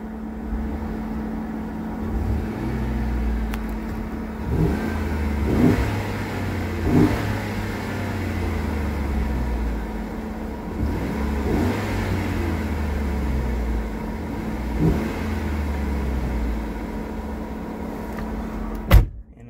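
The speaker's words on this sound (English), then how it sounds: "but we'll go ahead and give it a few revs." A 2012 Chevrolet Tahoe LT with GM's 5.3 liter LMG overhead-valve V8 revs several times at idle, each blip rising and falling over a steady low engine and fan drone, heard close with no talk.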